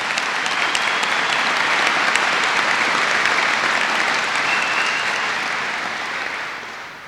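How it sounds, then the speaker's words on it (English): A commencement ceremony audience gives a round of applause as the principal and teachers stand, a dense, loud wash of clapping that holds steady and tapers off toward the end. "You're welcome to give them a round of applause"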